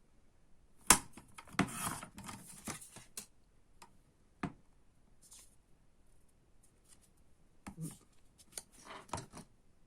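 Paper is cut while making a scrapbook folio album, with scattered close snips and crisp rustling in irregular bursts, loudest near the start and again toward the end, separated by quiet handling noises and no talk.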